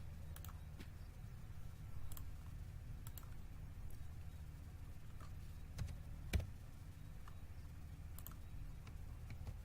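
Quiet, sparse keyboard clicks while entering HTML code on a computer, scattered taps over a steady low hum, with no talking.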